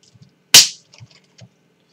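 A bottle of Tomomasu Beverage strongly carbonated water from Saga Prefecture is opened: one sharp, loud cracking hiss of the cap, then a few faint small clicks and handling noises.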